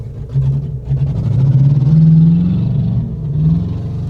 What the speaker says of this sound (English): Leon is now driving away in the Jeep.